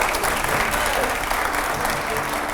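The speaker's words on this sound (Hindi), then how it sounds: "तालियां हो जरा" An audience at a televised Hindi political debate show applauds, a dense, steady wash of many hands clapping at close range that fills the whole moment without pause.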